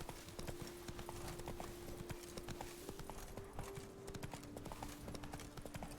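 Roach, a horse in The Witcher, gallops with steady, rapid hoofbeats thudding over a low droning background, the clip-clop continuous and close for the whole stretch.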